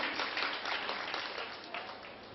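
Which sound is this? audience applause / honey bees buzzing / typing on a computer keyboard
audience applause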